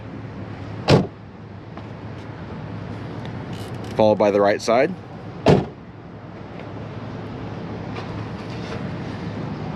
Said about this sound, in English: Closing the door, you'll close the left side first